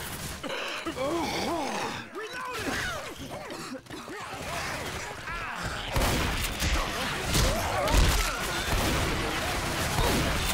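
Gunfire and zombie-fight chaos in Left 4 Dead 2 co-op build to a dense, loud clatter of shots in the second half, following gasping and vocal noises early on, with voices mixed in.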